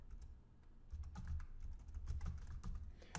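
Rapid keystrokes clatter on a computer keyboard as a Java command is typed into a Notepad file on a Windows 10 PC, the taps close and irregular with no voices.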